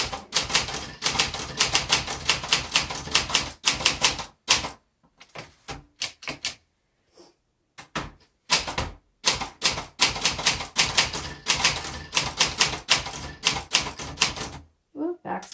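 Rapid clacking keystrokes come from a 1962 Olympia SF Deluxe portable typewriter, close and crisp, in dense bursts broken by a few brief pauses and scattered single strikes.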